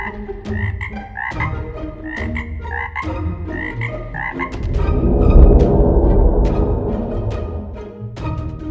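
A chorus of frogs croaking in rapid, repeating bursts, loud and close, joined midway by a swelling rumble of dense croaks before the rhythmic calls return, with no talking.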